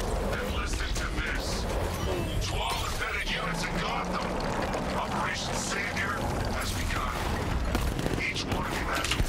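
A tank in Batman: Arkham Knight fires non-lethal rounds in rapid, overlapping bursts of booming shots and mechanical clatter, loud and dense throughout the scene.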